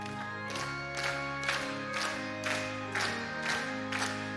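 A church congregation at a Wednesday evening service claps in a steady, even beat while singing a hymn. The sharp claps fall about twice per second over sustained voices and accompaniment, with a moderate, roomy sound.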